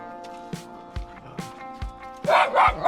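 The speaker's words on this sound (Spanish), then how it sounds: "Los perritos." Dogs bark in short rhythmic yaps along a walking route on the Portuguese Camino, several barks spaced about half a second apart and growing louder toward the end, with a person's voice faintly mixed in.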